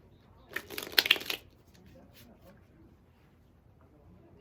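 A deck of tarot and Message of Love oracle cards gets a brief, crisp shuffle lasting about a second, fairly close, followed by a quiet stretch with faint handling noise.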